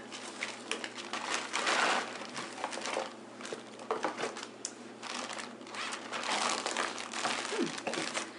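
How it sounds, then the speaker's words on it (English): Gluten-free cookies crushed inside a Ziploc bag with a rolling pin or large soup container, giving continuous close crinkling and crunching of plastic and crumbs with uneven pressing bursts throughout. "You take a rolling pin or you take a large soup container and you just crush them until they're small crumbles."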